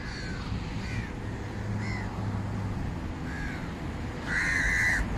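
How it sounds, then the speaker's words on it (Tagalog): Several crows caw at a fish roundabout, a few separate calls spaced over background ambience, with a louder, closer burst of cawing near the end. "Ang daming uwak ko."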